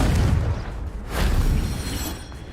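A blasting spell in Hogwarts Legacy lets out a deep, heavy boom, followed by a rumbling second burst about a second later and a lingering low roar. The sound is loud and close, with no talking.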